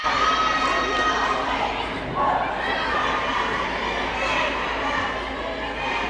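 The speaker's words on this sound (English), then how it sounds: "They're doing some cheers, trying to get varsity, that energy out there, getting the crowd going" Spectators at a high school volleyball game between Glenbard East and Naperville Central cheer and shout loudly as the JV team leads chants, a sustained, bright crowd roar throughout.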